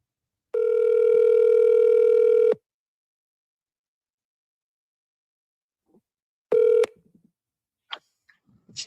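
A phone call's ringback tone sounds close and clear: one long steady ring, a silent gap, then the next ring starting before faint shuffling noises.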